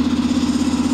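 Electric air compressor running steadily at close range, a loud continuous motor drone with an even pulsing hum and no voices over it.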